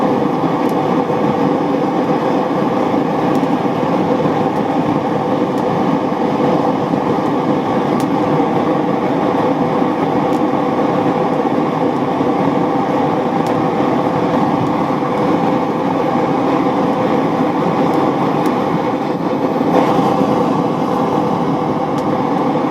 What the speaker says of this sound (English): Adjust the flame here by unscrewing this air intake.